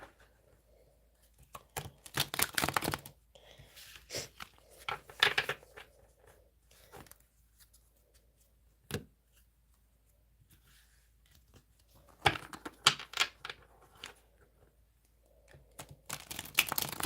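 Tarot cards are shuffled in quiet bursts of crisp riffling and tapping, separated by pauses, close by and faint.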